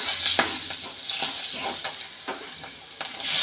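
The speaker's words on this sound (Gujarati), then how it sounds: "સરખી રીતના મિક્સ કરી નાખવાનું છે" Tempering with green chili for corn chevdo crackles in a hot pan as a spoon stirs it, steady loud sizzle broken by repeated scraping strokes, close up and without talk.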